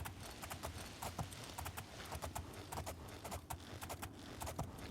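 Rapid, even hoofbeats of a horse galloping in the Oblivion game keep up a steady rhythm throughout. The beats are close and moderately loud, with no talking over them.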